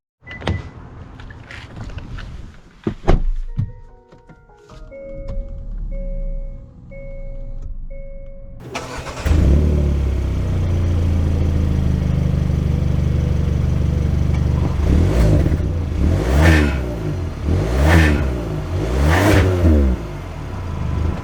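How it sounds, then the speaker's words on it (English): A 2021 Hyundai Sonata Limited is heard starting up and driving off, with faint clicks and interior mechanical sounds giving way to a steady, loud engine and road drone that swells in repeated pulses as it accelerates; no one speaks. "Let's take this Limited out and see how it drives."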